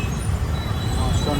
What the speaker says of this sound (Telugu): చూడండి ఎంత ట్రాఫిక్ ఉందో